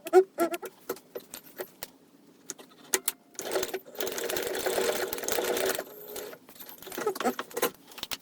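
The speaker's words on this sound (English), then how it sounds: "we're now going to take these to the machine and sew the bottom corners at the given seam allowance on each side" A sewing machine stitches the bottom corners of a Celine bag, short bursts of close mechanical whirring broken by handling clicks and rustles, with one longer steady run in the middle.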